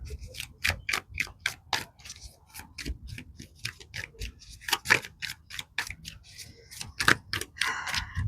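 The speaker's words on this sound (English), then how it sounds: "I may edit out some of this shuffling." A deck of tarot cards being shuffled by hand up close, making a steady run of crisp, papery snaps and flicks, roughly three or four per second, with no voices over it.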